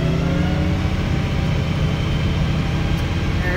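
Tractor engine running steadily at raised RPM, a loud, close, continuous droning rumble with strong low harmonics and no talk over it.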